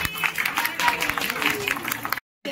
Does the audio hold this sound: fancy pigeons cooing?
no